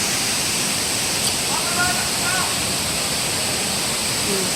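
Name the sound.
waterfall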